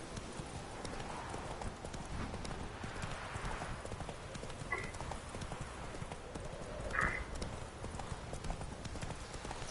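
Roach, the horse in The Witcher 3, gallops with a steady rapid clip-clop of hooves that runs throughout, and faint game sounds sit in the background.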